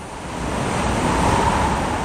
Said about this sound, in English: Suddenly, a freezing cold blast of air screeched past and nearly blew the sun along with it